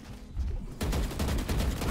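Rapid bursts of gunfire in a first-person shooter game, a loud staccato volley of shots starting abruptly after a quieter moment and continuing steadily.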